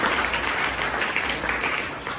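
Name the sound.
children clapping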